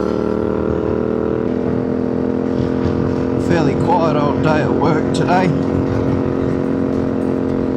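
A CFMoto 450MT motorcycle hums at a steady engine drone while riding, loud and constant, with someone talking over it partway through.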